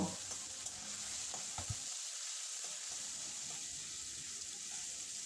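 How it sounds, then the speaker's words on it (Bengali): Paneer pieces and vegetables fry together in a pan with a soft, continuous sizzle and faint scraping from stirring, and no one talks. "আবারও একসাথে সমস্ত উপকরণ ভেজে নেব"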